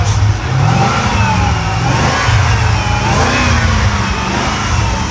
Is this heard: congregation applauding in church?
no